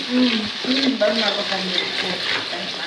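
Cooked legumes are stirred in a pan after salt is added, with a soft, steady sizzle and a few scraping strokes, close and fairly loud. A low voice murmurs faintly underneath.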